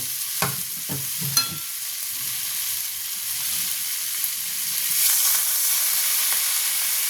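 Fish curry with mourola fish and drumsticks fries in a pan and gives a steady, bright sizzle when water is added, with a few clinks and stirring scrapes near the start.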